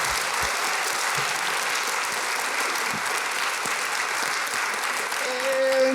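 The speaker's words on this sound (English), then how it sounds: "A round of applause for our panelists." Sustained applause from an audience at an award ceremony and panel discussion, a dense, even roar of clapping with a few louder claps near the start and a brief voice at the end.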